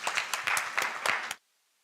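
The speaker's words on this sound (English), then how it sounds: "May we please give it a round of applause." Audience applause at a university law clinic launch, a short burst of lively clapping from a small crowd lasting just over a second before cutting off to near silence.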